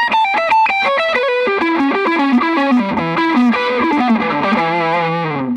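Heavily distorted electric guitar played through the front pickup of a Carvin FG1, a fast run of single notes settling into sustained chords, loud and continuous with no talking.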